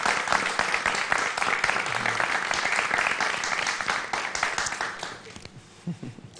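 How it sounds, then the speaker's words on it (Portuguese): Audience applause for Master Sahly fills a live show, a dense, steady burst of many hands clapping that carries on for several seconds, then thins out and fades with a few scattered claps at the end. "Master Sally, uma salva de palmas,"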